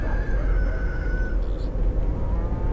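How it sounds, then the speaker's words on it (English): A rooster-like crowing call rises over a heavy low hum and steady background noise in the Fernbus Simulator video game, short and moderately loud. "I kind of hear chickens."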